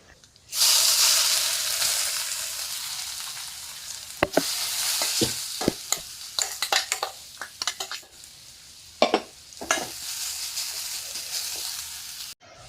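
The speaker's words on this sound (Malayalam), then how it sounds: "എണ്ണ ചൂടായിട്ടുണ്ട് കടുക് ഇട്ട് കൊടുക്കുക കടുക് പൊട്ടി വരുമ്പോൾ" Mustard seeds splutter in hot coconut oil while cooking vazha pindi thoran (banana stem stir-fry): a steady loud sizzle with sharp scattered pops and crackles, close and alone.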